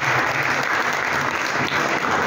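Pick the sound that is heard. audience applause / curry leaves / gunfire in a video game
audience applause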